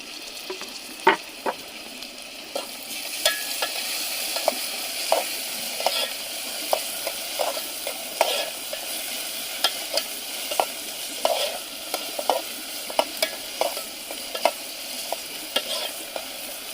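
Chili and tomato with onion frying in a pan, a continuous sizzle broken by regular scraping clicks of a spoon stirring, close and clear with no talk.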